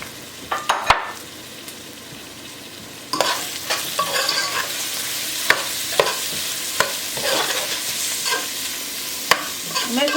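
Broccoli stem and celery stick cooking in a pot of chicken noodle soup, a steady broad sizzle under repeated sharp clicks and scrapes of a utensil stirring, louder after the first few seconds.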